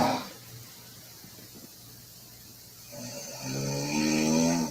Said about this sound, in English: Me snoring in Maine.